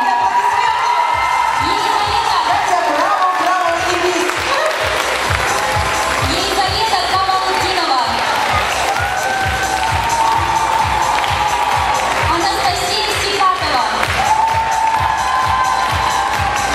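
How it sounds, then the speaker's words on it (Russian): Loud audience applause and cheering fill a dance show by a folk variety dance theatre, steady clapping with whoops and shouts running continuously throughout. "Екатерина Габдулкадирова, ваши громкие аплодисменты."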